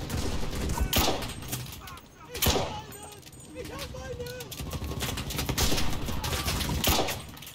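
Bursts of rifle and machine-gun fire in the video game Enlisted during a Stalingrad street battle, sharp cracks scattered over steady battle noise, with a player speaking at times.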